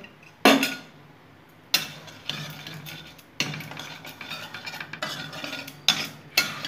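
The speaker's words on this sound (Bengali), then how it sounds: "সুজিটা আমি একটু সাথে নিলাম, একটু নেড়ে নিলাম" Semolina being stirred in a pan with a metal spoon: repeated scraping and clinking strokes, close and clear, with a few sharper knocks against the pan and no voices.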